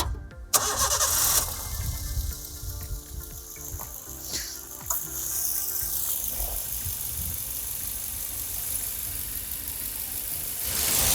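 A Maruti Ritz petrol four-cylinder engine cranks briefly and catches, then settles into a steady, smooth idle heard up close inside the car, with no talking.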